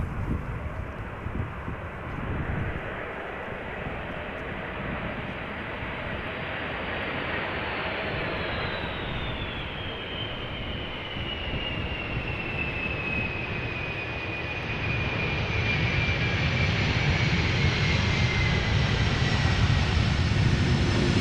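An airliner arriving on approach to land in a gusty crosswind at Amsterdam Schiphol Airport, its engine roar broad and steady across the clip, swelling louder as it passes close near the end, mixed with wind noise.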